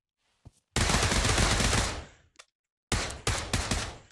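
MP5 submachine gun firing in the Pavlov VR shooter game: a short shot, a sustained loud automatic burst lasting over a second that trails off, another brief shot, then several quick bursts in succession.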